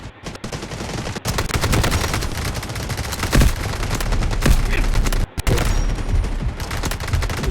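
Rapid automatic gunfire from the video game Delta Force on a new map, loud sustained bursts of shots with brief pauses and sharp impacts, near and dominant.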